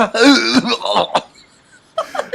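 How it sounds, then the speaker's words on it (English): A person laughs briefly, then breaks into a short raspy cough, with a quieter cough following after a pause. "you break and you got a weird ass cough"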